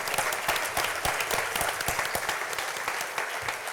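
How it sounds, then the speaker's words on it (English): A college audience claps for a student admitted to UC Berkeley, producing dense, continuous applause from a sizable crowd that stays even throughout. "help me give her a round of applause"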